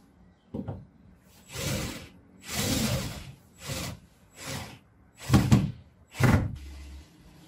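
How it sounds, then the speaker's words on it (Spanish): A wooden cabinet door is lifted and fitted back into place, giving a series of scraping, knocking thuds, several of them firm, spread unevenly over a few seconds with no talk. "Siguiendo con el proceso colocamos la puerta de nuevo"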